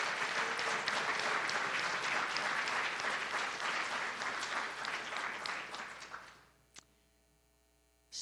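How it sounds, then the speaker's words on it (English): Audience applause fills a Hall of Fame ceremony honoring Army women, a dense, steady clapping that swells for about six seconds before tapering off into near silence, with one stray clap afterward. "Let's give them all a round of applause."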